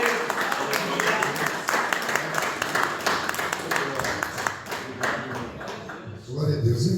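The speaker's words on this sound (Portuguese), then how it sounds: "E as palmas ao Senhor Jesus" A church congregation claps in praise, a steady dense patter of many hands close by that fades briefly before a voice speaks over the end.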